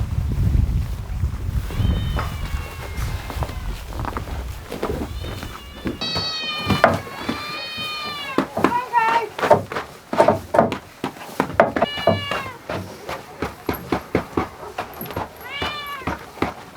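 Several cats meow repeatedly around a homestead, rising and falling calls in irregular bursts, with wind and low rumbling noise early on and no talk.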